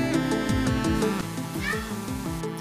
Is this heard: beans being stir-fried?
no